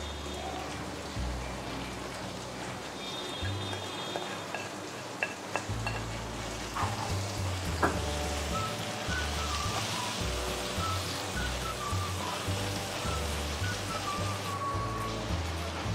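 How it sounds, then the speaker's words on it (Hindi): Homemade garam masala, roasted crushed cumin and turmeric frying in a pan for aloo matar pulao, a soft steady sizzle with occasional stirring scrapes and light clinks throughout, fairly quiet and with no talking. "ये मसाला मेरा बहुत अच्छे तरीके से भुन चुका है।"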